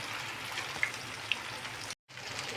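Tikki patties sizzle steadily in a frying pan, a continuous close hiss of hot oil with a brief cut near the end.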